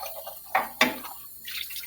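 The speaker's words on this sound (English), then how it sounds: "I'm also going to rinse my beaker while I'm here." Water splashes and drips into a glass beaker during rinsing, with a couple of distinct splashy bursts and a trickling sound at the end, close and moderate in volume, with no talking.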